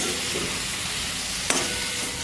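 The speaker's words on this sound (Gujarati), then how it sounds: "હવે આ પનીર આપણે અંદર નાખી દઈશું અને આ રીતે આપણે હલાવીને હલકાથી આપણે આને તળી લઈશું" Cubes of paneer sizzle gently in butter in a pan while being stirred, a close, even frying hiss with one sharp clack of the spoon near the end.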